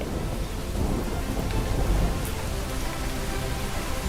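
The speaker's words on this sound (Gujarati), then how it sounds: "હિંમતનગર પ્રાંતિજગીર બ્રહ્મા સહિતના તાલુકામાં વરસાદ પડી રહ્યો છે" Heavy rain pours down without a break in Sabarkantha district around Himmatnagar, and deep thunder rumbles through it. The roar stays loud and dense for the whole stretch.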